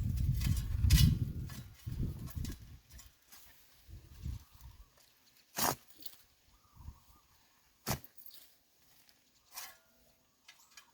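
Tool driven into the soil around a banana corm in a Hawaii garden, cutting roots: heavy thuds and crunching squelches at first, then scattered sharp snaps and scrapes spaced seconds apart, fairly close.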